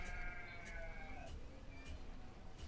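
A single wavering sheep bleat from a village-building game, fairly clear and trailing off over quiet background ambience.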